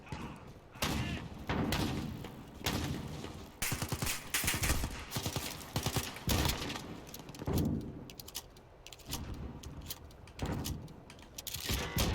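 Gunfire from a Call of Duty match comes in loud, rapid bursts and sustained volleys separated by short pauses, with dense impacts and thuds throughout.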